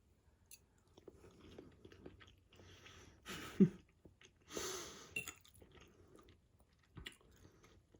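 Quiet chewing and a few crunchy bites of a meal made from leftovers, close up with breaths between mouthfuls and near silence in the gaps.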